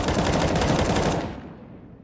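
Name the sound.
AK rifle spray gunfire in video game Counter-Strike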